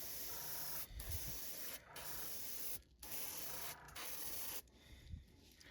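A Gaahleri Mobius airbrush sprays a thin coat of sand-colored paint onto a squarebill crankbait fishing lure, heard as a close, steady hiss in several long bursts cut by brief pauses.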